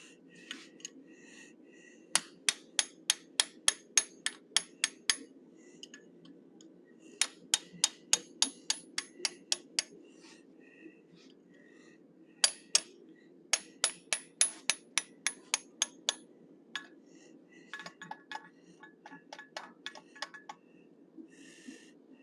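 Blacksmith hammering hot metal with a 1/8 inch fuller while forging an animal head: bursts of sharp, evenly spaced metallic strikes in quick runs of about eight to ten blows, separated by brief pauses, close and clear with no talking.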